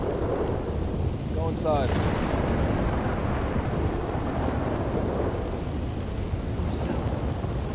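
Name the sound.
thunderstorm with rain and loud thunder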